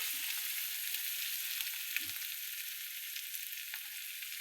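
Ginger garlic paste fries slowly in hot oil, giving a steady close hiss and faint sputter with an occasional soft knock of a spoon against the pan, no talking.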